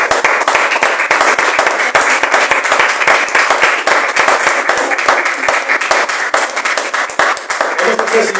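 A church congregation claps steadily and densely, a continuous wash of hand claps that fills the room at close range, with no talking over it.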